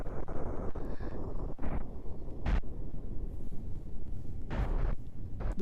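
Rocket explosions in the video game Kerbal Space Program, a rumbling roar broken by several hard booming blasts, two of them especially strong, loud and close.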